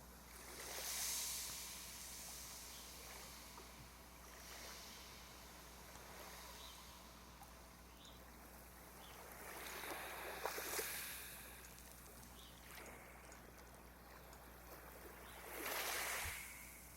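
Ocean waves wash and splash onto a beach, with soft hissing surges rising and falling over a steady low rumble. Brighter bursts of spray come through near the start, around the middle and near the end, and no one speaks.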